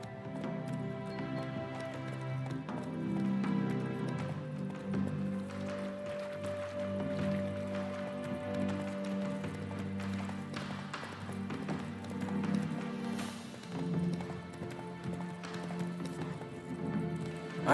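Horse hooves in The Witcher III pound out a fast, steady clip-clop gallop, loud and close for the whole stretch, over a low sustained game soundscape.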